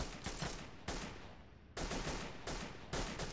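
Repeated bursts of automatic gunfire in the video game Delta Force Xtreme 2, several loud broadband volleys separated by short lulls, with no talk over them.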